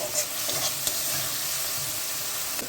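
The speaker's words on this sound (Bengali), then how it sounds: "আমি কিছুক্ষণ নাড়াচাড়া করব, একটু ভাজা ভাজা করে নেব" Tomato pieces and salt sizzle in hot oil as they are stirred and fried for a katla fish curry, giving a continuous close frying hiss with faint scraping of the stirring.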